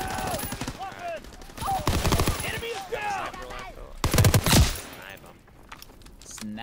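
A machine gun turret firing in Call of Duty: WW2 multiplayer, with rapid bursts of gunfire and a loud flurry of shots midway, mixed with game sounds while players talk over it.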